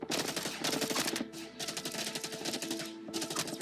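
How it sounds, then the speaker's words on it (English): Laser weapons firing in the Star Citizen game, a loud rapid stream of zapping shots in several bursts with brief pauses between them, dense and close throughout. "those are laser weapons. They don't have recoil."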